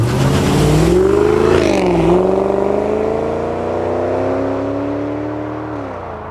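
A Jaguar XKR's V8 revs through an X-pipe exhaust, a loud climbing roar that dips, surges again, and then settles into a steady, slowly fading drone.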